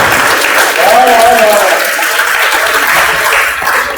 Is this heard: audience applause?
yes